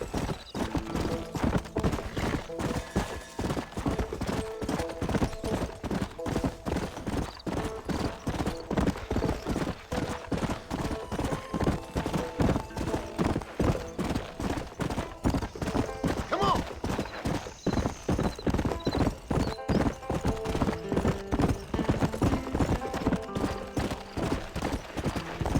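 A horse in the Red Dead Redemption video game trots in a steady, rapid rhythm of hoof clip-clops, loud and close throughout, with occasional tack rattle and no talking.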